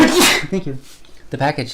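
A single sharp, close sneeze bursts out at the start, then people talk nearby.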